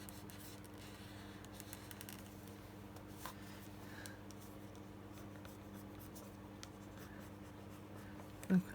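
A pen marking a sheet of paper during a craft project, giving soft, steady scratchy strokes at close range over a low background hum, with a brief bump near the end.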